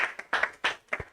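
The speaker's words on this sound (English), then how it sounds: "Let's clap for it." A few scattered claps from a small audience at a civic hackathon and bootcamp session, arriving as four or five separate bursts over about a second rather than a sustained round.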